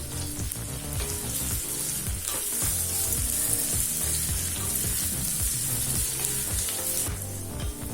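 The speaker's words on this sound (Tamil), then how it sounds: "அடுத்து 2 வெங்காயம் சேர்த்துக்கலாம். ரெண்டு பச்சை மிளகாய்," Onions and green chilies sauté in hot oil with ginger and garlic for tomato rice, giving a steady, close sizzle over eight seconds with soft stirring scrapes underneath and no voices.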